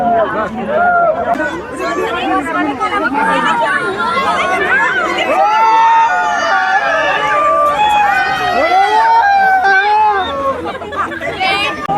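Dense crowd chatter fills Katraj Zoo in Pune as visitors push past the leopard enclosure, many overlapping voices talking nearby with constant babble.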